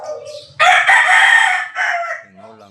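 A native rooster crows once, close and loud, its drawn-out call lasting about two seconds before a few softer trailing notes.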